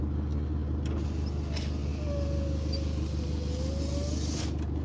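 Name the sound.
car engine just started, running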